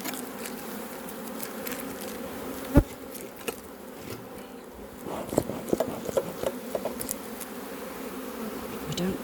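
Honeybees buzz steadily around an opened hive during a beekeeping inspection, a continuous close drone with occasional sharp knocks and clicks from handling the frames.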